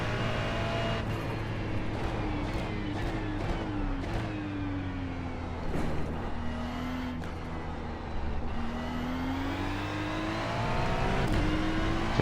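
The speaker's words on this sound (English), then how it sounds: "I could hear the engine." A race car engine in the iRacing game at Spa drones steadily with rising and falling pitch through gear changes, with sharp clicks and shifts scattered over the constant engine roar.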